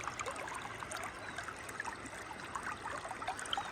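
A clear stream at Baijnath Khola in Katari, Udayapur burbles and trickles steadily, a soft continuous flow with small splashy bubbles, heard alone from close by.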